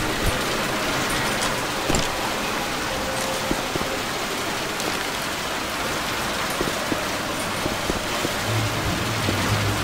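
Heavy rain in the Left 4 Dead 2 Hard Rain campaign, a dense, constant hiss of downpour with scattered faint clicks and knocks underneath.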